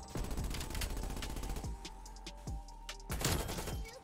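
PPSh submachine gun in Call of Duty Black Ops Cold War on the Diesel map, rapid sustained automatic fire in loud dense bursts, with a heavier burst near the end and no talk over it.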